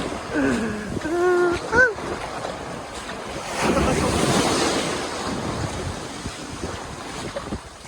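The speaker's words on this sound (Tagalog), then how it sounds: "Ganito kalakas yung alon, yung current dito sa Poca Beach." Strong surf at a Boracay beach roars steadily after a brief burst of voices at the start, broadband wave wash swelling in the middle and rumbling on with some wind buffeting.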